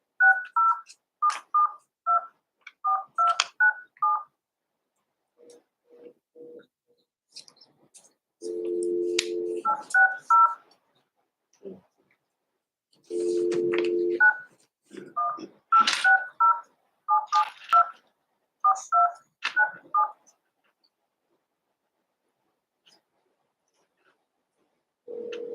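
Telephone keypad tones dial out during a school board meeting, quick series of short beeps in uneven bursts, with longer ringback tones between and voices speaking around them.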